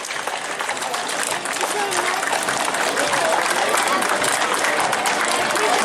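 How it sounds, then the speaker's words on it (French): A crowd at an old-time harvest festival parade in Hindisheim claps for two horses, a dense, sustained burst of applause that grows slightly louder and carries on throughout, with voices mixed in beneath it. "On peut les applaudir aussi,"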